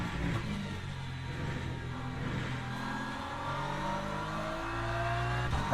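A GT3 race car in a racing video game builds speed, its engine note rising steadily through the gears with layered whining harmonics, fairly faint and continuous over several seconds.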